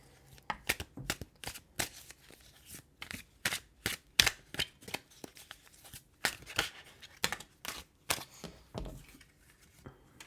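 Tarot cards are shuffled by hand in a run of crisp, riffling bursts with short gaps between them, close and clear against a quiet room.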